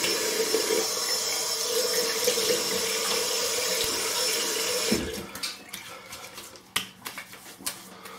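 Cold water pours steadily from a bathroom tap into a sink for about five seconds, then shuts off, leaving drips and small clinks of shaving gear nearby.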